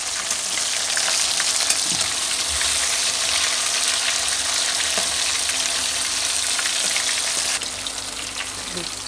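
Chicken malai tikka fries in a pan with a loud, continuous sizzle and crackle that drops slightly near the end, with no talking.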